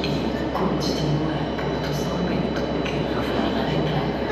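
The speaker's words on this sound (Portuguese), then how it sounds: "só estamos a ver o comboio a chegar" A train arrives at Campanhã station in Porto, a loud continuous rumble of wheels and engine filling the platform, with voices faint beneath it.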